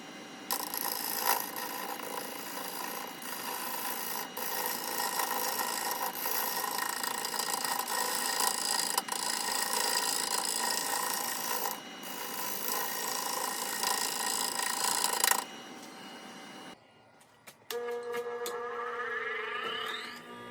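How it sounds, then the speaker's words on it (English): A heavy Glenn Lucas Hamlet negative rake scraper cutting hard wood burl on a lathe, a continuous close rasping scrape that stops near the end, followed by a rising and falling whine as the lathe spins down. "I'm going to clean up some of those ridges with this negative rake scraper"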